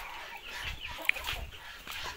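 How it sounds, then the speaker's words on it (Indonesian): A Pelung chicken clucks in a farmyard in a steady run of low, throaty clucks. The bird is fairly close, with outdoor background noise throughout. "Nah, ini ayam pelung saya."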